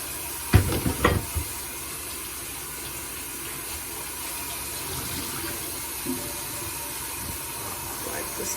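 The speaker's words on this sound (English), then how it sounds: "Rinse off the knife. And rinse off the cutting board." Tap water runs in a steady faint hiss while a knife and cutting board are rinsed in a kitchen sink, with a few clattering knocks near the start and a soft bump later.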